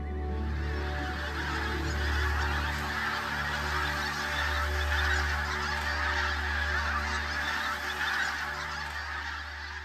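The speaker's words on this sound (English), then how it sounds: "When they come back in November and you hear them high in the sky, the skeins coming in and the calling of the geese" A dense chorus of geese honking and calling over a freshwater marsh in Norfolk, many birds overlapping continuously at a moderate distance with no pauses.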